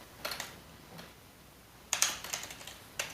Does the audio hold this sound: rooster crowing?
no